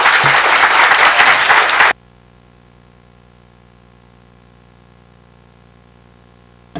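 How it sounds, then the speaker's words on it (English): An audience at a literary festival panel breaks into loud, dense applause for the panelists, which stops abruptly after about two seconds and leaves only a low electrical hum. "a big round of applause for our panelists"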